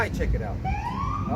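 A police car siren rises in a single upward wail a short way off, heard under a voice talking close by.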